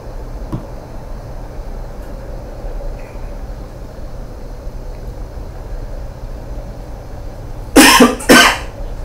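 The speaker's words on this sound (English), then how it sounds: "Tried to hold off that cough." A person coughs twice in quick succession near the end, loud and close, after a long stretch of quiet low background noise.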